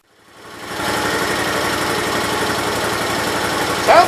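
Engine of a 1968 Gravely 430 walk-behind tractor fading up into a steady, close idle with a busy mechanical chatter that fits valve clatter, running evenly throughout.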